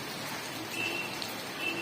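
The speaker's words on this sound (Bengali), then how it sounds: "ভয়ঙ্কর বৃষ্টি পড়ছে।" Heavy rain in Darjeeling, a continuous wash of falling water at moderate loudness with a faint beep in the distance.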